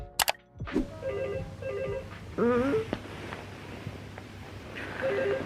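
A telephone rings in short electronic bursts, repeating several times at a steady pace over a low background hum.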